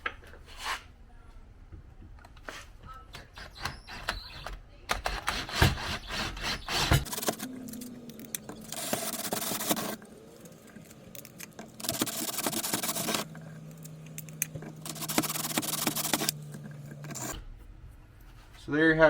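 A graduated step drill bit bores oiled holes through a HackOPS sheath for a Milwaukee M-12 or M-18 Hackzall, giving several sustained bursts of whirring, grinding drilling with short pauses between them, near and fairly loud.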